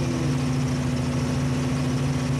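An engine held at about 1600 RPM by a hand throttle gives a steady, loud, unbroken mechanical hum with no change across the moment.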